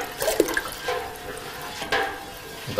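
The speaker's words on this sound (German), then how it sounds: "den Inhalt dann in die Milch reinschütten" Liquid contents are poured into a pot of milk while making cheese in the Allgäu, a steady splashing trickle with a few brief clinks and surges, no voices.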